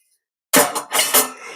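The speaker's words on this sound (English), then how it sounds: "Normal size pie dishes, how many can we fit?" Normal-size pie dishes are set into an Instant Vortex Plus VersaZone 8.5L air fryer, making a sudden clatter of several close, bright clinks and knocks after a moment of silence, then settling.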